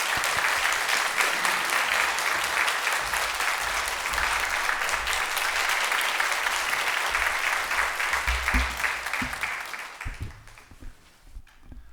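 A Korean church congregation at a Sunday service claps steadily and densely for nearly ten seconds, then the applause thins into a few scattered claps and fades.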